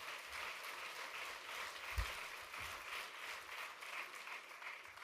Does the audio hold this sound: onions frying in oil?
no